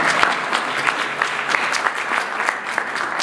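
Audience applause greets a Democratic councilmember being introduced at a county executive candidate debate, a dense, steady clapping from a seated crowd close by.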